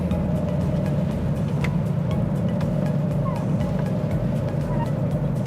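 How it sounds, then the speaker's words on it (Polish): A Volvo V50 1.6 estate cruising at 90 km/h on a smooth road, heard from inside the cabin as a steady, loud low engine and road drone with continuous tyre rumble and no breaks. "Rozpędzamy samochód do 90 km na godzinę."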